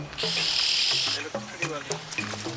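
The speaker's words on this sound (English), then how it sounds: "they do make this horrible squawking, squeaky noise when they're upset" Distressed birds being untangled from a capture net during an African wildlife rescue: a harsh, sustained high screech, then a run of shorter squawking, squeaky calls, close and loud.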